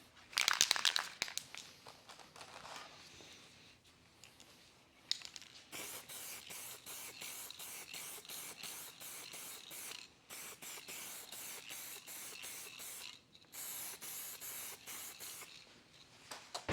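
Aerosol sealer sprays onto a cup in a quick opening burst, then in long, steady hissing passes broken by brief pauses, close and clear with no talking.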